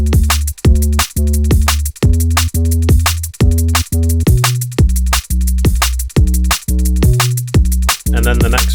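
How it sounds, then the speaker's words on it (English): Drum and bass beat programmed on an Ableton Push 3, stripped to drums and bass with no bell or pad: punchy kicks and snares with a deep, heavy sub bass line in steady fast rhythm, loud and upfront. "So all we've got is strictly drum and bass,"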